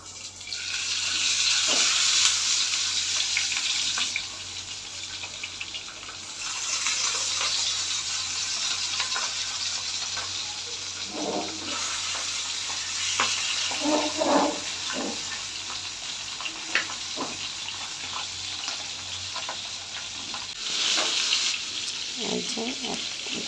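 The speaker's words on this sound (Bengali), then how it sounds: "মাছটা ভালো করে একটু ভেজে নেব।" Pabda fish frying in mustard oil sizzles steadily and close for a long stretch, with occasional spatters and utensil clinks breaking the hiss.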